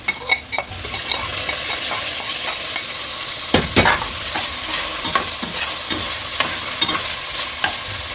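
Boiled pork belly fries in a pan with garlic while being stirred. A steady sizzle runs throughout, broken by repeated sharp utensil scrapes and clacks against the pan, with no talking.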